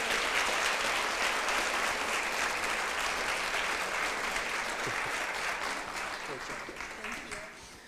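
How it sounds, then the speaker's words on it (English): Audience applause after a presentation at an event, a dense steady clapping from a sizeable crowd that holds for several seconds before beginning to taper toward the end, with some faint voices mixed in. "Give her a round of applause, everybody."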